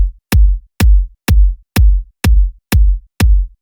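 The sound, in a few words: layered kick drum crossfaded in Ableton Live 10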